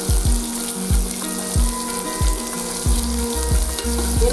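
Carrot, beans and green peas sautéing in a hot pan, a steady sizzle broken by a regular rhythm of spoon or spatula knocks against the pan as the vegetables are stirred, close and alone without speech.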